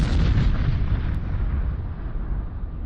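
A JASSM missile is launched from a B-1B Lancer bomber, producing a loud, sustained roaring rush of rocket thrust that fills the clip and slowly fades without a break.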